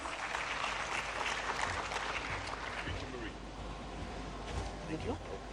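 Audience applause at an annual general assembly, a steady wash of clapping from a large crowd, fairly distant and sustained over the whole stretch, with some background murmur.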